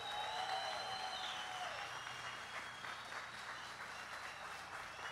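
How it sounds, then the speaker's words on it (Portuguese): Crowd applause for young musicians at an outdoor choro and jazz festival in Jericoacoara, steady dense clapping from a large audience, heard from some distance, with whistles and faint cheering mixed in. "Muitas palmas para eles."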